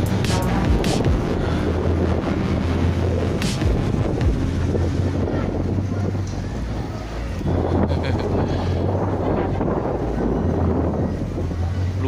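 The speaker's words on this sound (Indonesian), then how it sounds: "itu yang puting beliung. Wow, udah terbang semua atap masyarakat" Tornado-force wind tearing roofs off houses in Tanjung Buntung, Batam, roaring steadily and loudly into the microphone with broadband gusts and rumble throughout.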